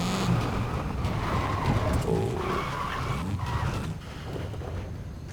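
Car tires squeal and skid continuously in Forza Horizon 5 during a night photo event, a loud sustained screech with engine noise underneath, easing slightly near the end.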